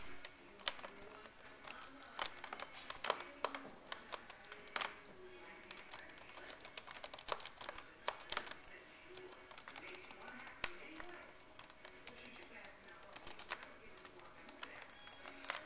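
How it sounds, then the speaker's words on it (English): Typing on a computer keyboard, a quiet, irregular, continuous patter of light key taps lasting throughout, close and soft, with faint talk now and then. "So I'm going to type, I wonder what Santa"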